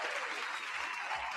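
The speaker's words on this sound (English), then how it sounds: "So big shout out and applause to y'all." A crowd at a live event claps in a steady, dense patter of applause, moderately loud and sustained from start to finish.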